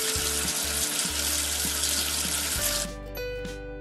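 Water rinsing soap off a number in a children's counting video game: a steady gush of running water like a tap, with looping game music underneath, cutting off near the end as the music continues.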